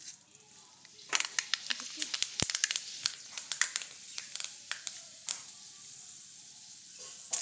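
Greens curry frying in oil in a wok, with a faint steady sizzle and a scatter of sharp crackles and pops that grow busier partway through, quiet and close.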